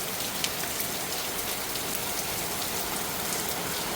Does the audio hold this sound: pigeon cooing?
no